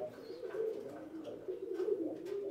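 A racing pigeon with plucked wing feathers gives soft, low repeated coos, close and fairly quiet, with no talking.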